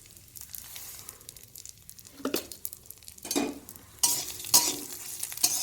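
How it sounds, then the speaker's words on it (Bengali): Mung dal being stirred and dry-fried in a wok for a fish-head muri ghonto dal, with scraping spatula strokes in separate bursts and a soft crackle growing louder toward the end, close by and with no talk. "দিয়ে ভালো করে ভেজে নেব দেখুন ডালটা ভাজা হয়ে গেছে"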